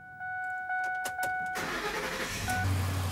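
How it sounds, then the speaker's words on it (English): A Ford F-150 pickup with a Triton engine and a misfire, heard close up: a few electronic chime beeps, then the starter cranks and the engine catches and settles into a loud, rough-edged run. "So what we're going to do now is we're going to do a running test. So we're going to start this car up,"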